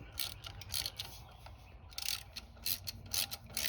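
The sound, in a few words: ratchet tightening a bolt on a mower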